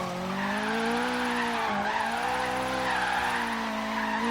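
A Subaru BRZ in Forza Horizon 3 skids its tires while trying to drift, giving a loud, continuous squeal with a wavering pitch over a steady engine drone. It briefly dips and then carries on throughout.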